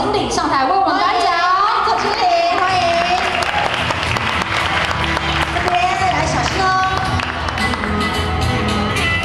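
Audience applause welcoming an award presenter onto the stage at a brand-sharing conference award ceremony, a sustained loud mass of clapping with crowd murmur and voices mixed in throughout.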